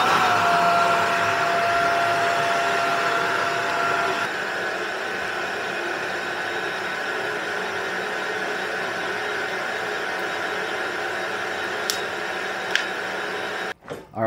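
A leaf blower runs as a steady, loud, continuous whoosh, pushing air into a fireplace, with a faint tone early on and a couple of brief clicks near the end before it cuts off.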